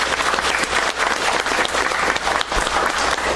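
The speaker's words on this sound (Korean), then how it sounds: "다시 한번 박수 부탁드릴까요?" An audience claps steadily at a civic humanities-city proclamation ceremony in Jongno, a dense, continuous round of applause filling the hall.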